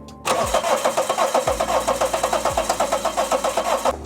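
A Daihatsu Terios engine, left unused in a garage for five years, cranks steadily with a rhythmic chugging starter sound for several seconds but never catches, then stops.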